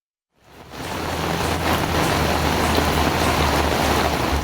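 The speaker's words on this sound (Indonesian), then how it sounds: "Hujan deras yang mengguyur selama 2 jam" Heavy rain falling during a two-hour downpour over a housing-estate street, a steady dense hiss that swells in within the first second and stays loud and constant with no talk.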